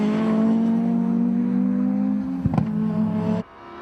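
Racing cars including a red Ford Escort Cosworth and an RS2000 Escort at Anglesey circuit drive past with a steady loud engine drone, a brief gear-change burst near the end, then a sudden drop as the cars move away.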